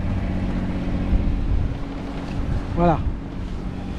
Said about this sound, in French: on se prend toujours les vagues là par 3/4 arrière. Et ça clapote en fait